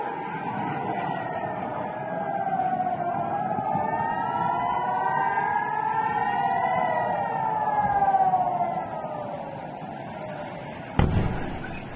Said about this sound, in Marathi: त्याचवेळी सायरनचे आवाज अलर्ट करण्यात आलं